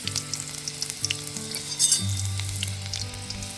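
Garlic sizzles and crackles steadily in hot oil, a close, continuous frying hiss with a low hum underneath and no voices.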